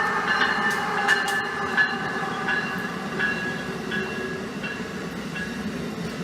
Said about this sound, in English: This train is discharge only and does not accept any passengers.